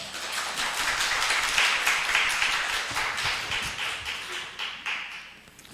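An audience at an academic theology conference keynote applauds, giving steady dense clapping for several seconds that thins out toward the end, with no talking over it.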